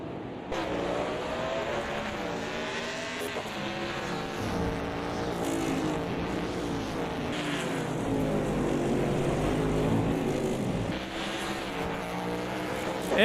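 Race cars in a CASCAR Roadmaster Series sim racing game at Montreal roar through a corner, engines rising and falling in pitch as they brake and accelerate, several cars close together at moderate loudness with no talk.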